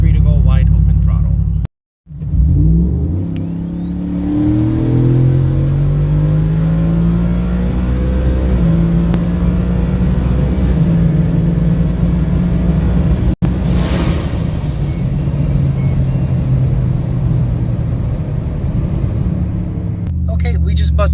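Turbocharged Ford F-150 truck running E85 on 10 psi boost at wide open throttle: after a brief cutout the engine roars up, its pitch climbing steeply and then holding a loud, steady, close-up drone with a high turbo whine for about fifteen seconds.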